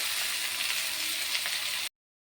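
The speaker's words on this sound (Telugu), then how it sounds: "ఇవన్నీ ముక్కలన్నీ కూడా వేసేసుకొని కొద్దిసేపు వీటిని కూడా ఫ్రై చేసుకోవాలి" Pieces of ridge gourd fry in a pan with a loud, continuous crackling sizzle that lasts under two seconds and then cuts off abruptly.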